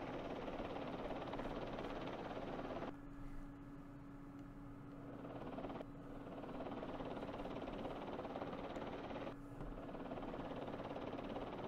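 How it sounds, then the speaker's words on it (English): Helicopters flying in the Vietnam war game Campaign Series Vietnam, a steady dense rotor and engine drone that holds loud throughout, with the tone dipping and shifting in two stretches before returning. "Get some helicopters up in the sky."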